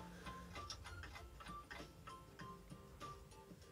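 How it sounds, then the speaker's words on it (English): A clock ticks in an even, steady rhythm, each tick a crisp, quiet click repeating about every half second, with no voices. "There are many different types of clocks."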